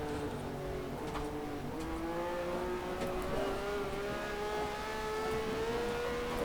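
A Matra MS11 V12 race car engine in the rFactor 2 racing game on the historic Monza circuit, held at high revs with a steady, loud, harmonic whine that rises slightly over the run, with no talking.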